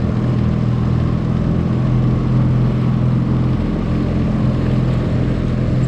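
A motorboat engine drones steadily and loudly up close while maneuvering during blue crabbing in South Carolina, a continuous low rumble with wind and water noise and no clear changes in pitch.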